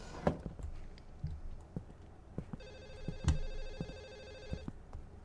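A telephone rings in a horror video game set at a secret government facility, a steady electronic ringing tone beginning midway and lasting a couple of seconds, with heavy thudding footsteps and knocks around it.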